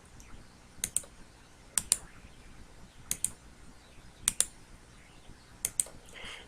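A computer mouse clicks in close pairs, about five quick double clicks spread evenly over a few seconds in a quiet room.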